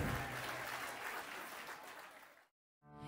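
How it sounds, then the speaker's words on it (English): Wedding guests at a baseball stadium reception applaud the couple, a faint, steady patter of many hands that fades and cuts off abruptly near the end. "A nice big round of applause for the beautiful couple up here."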